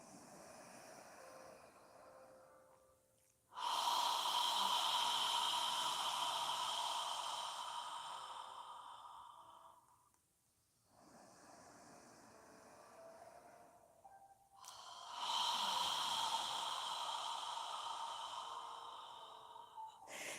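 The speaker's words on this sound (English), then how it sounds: "we're exhaling and inhaling naturally, no rush" Slow, natural breaths during a yoga session, two long broad airy exhales with a quieter inhale between, close and soft with no talking.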